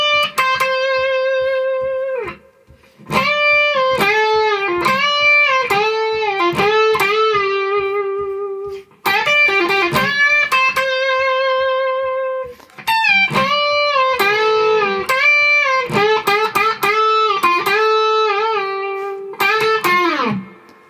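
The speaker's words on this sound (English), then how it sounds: "And then we get a guitar solo, which sounds like this." Electric guitar solo: bright, singing lead notes with bends and repeated phrases, loud and alone with brief pauses between passages.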